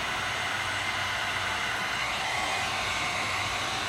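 A heat gun blows steadily while tint film is shaped onto a 2015–2017 Ford Focus headlight lens, giving a constant, even, airy roar with no breaks or talk.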